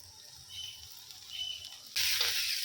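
Winter vegetables for a veg momo filling fry in a pan without added water, giving a soft steady hiss that swells briefly and then jumps to a louder, brighter sizzle near the end.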